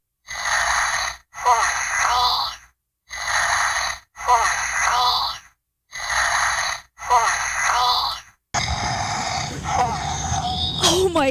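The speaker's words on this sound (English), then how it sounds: "It sounds like heavy breathing." A Hatchimals toy gives a run of loud, rhythmic heavy-breathing huffs in regular bursts with short gaps, then a longer stretch of noisier rustling and a voice.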